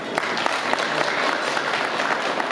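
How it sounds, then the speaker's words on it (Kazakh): A crowd applauds at a Kazakh bride's farewell wedding party, with dense, sustained clapping throughout and a few sharper individual claps standing out. "Бірақ мына шапалақ сізге соғылып жатыр"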